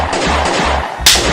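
A gun fires a single loud, close blast near the end, rising sharply out of a dense, noisy background.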